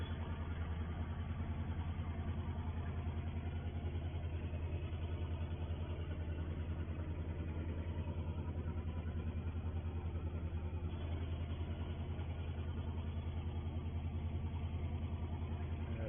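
A farm tractor's engine idles steadily in the yard, giving a constant low, even rumble that runs without a break from start to finish, with no talking over it.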